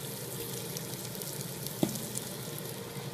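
Chopped tomatoes tipped into a hot pot, a steady close sizzle with a single sharp clink partway through, no speech.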